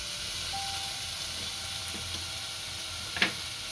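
Chopped capsicum tossed into a hot pan for Manchow soup, giving a steady, moderate sizzle with a brief sharper clatter near the end, no talking.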